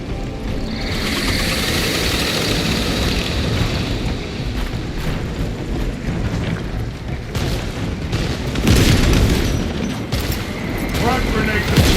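Orbital guns firing in the Warhammer 40,000: Space Marine 2 game, a dense, continuous roar of heavy booms and rumbling blasts with mechanical clatter, loud and sustained throughout, with voices mixed in.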